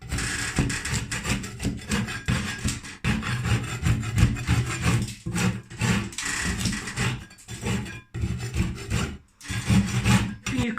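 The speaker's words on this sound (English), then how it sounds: "be very light-handed on it, and only scrape what needs to be scraped" A hand scraper is worked lightly over a textured ceiling during a patch repair, giving a close, rough rasping in a steady series of short strokes with brief pauses between them.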